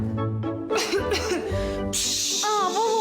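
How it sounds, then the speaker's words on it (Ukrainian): A harsh, close cough bursts out, followed by throaty sounds and a brief voiced tail, loud and abrupt. "Кашель"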